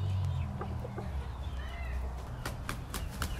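Quiet clucking from a chicken in a farmyard, several short soft calls scattered over a low background hum, with a few sharper clucks near the end.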